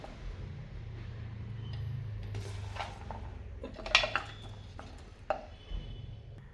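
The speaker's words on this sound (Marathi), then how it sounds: "आता हे मस्त चॉपरमध्ये बारीक करून घेते." A food chopper grinds an eggplant mixture finely for a spicy kharda, giving a steady low motor hum with short clattering bursts of the contents toward the end, close and moderately loud.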